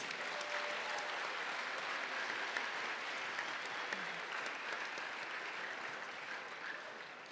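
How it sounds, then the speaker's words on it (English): A large conference audience of students at a state leadership session applauds themselves, a dense, sustained roar of clapping that stays even and strong throughout, heard alone. "Give yourself a round of applause, please."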